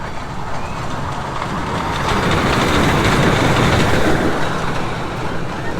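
A children's miniature train ride circles at Humayun Park near Dhaka, giving a steady, loud rumbling and clattering that swells slightly midway, with no talk over it.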